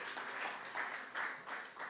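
An audience at a startup pitching competition semifinal applauds a pitch team. The clapping is soft and steady, sounds somewhat distant, and swells slightly in waves over a brief stretch.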